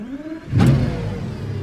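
Mercedes CLK GTR engine starts up with a sudden loud burst and settles into a steady, deep running idle, close by, with no voices.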